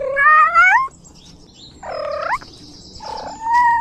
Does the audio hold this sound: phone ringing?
no